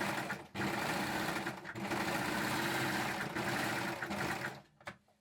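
A sewing machine stitches a maternity top neckband in quick continuous bursts, whirring loudly and close with brief pauses between runs before stopping.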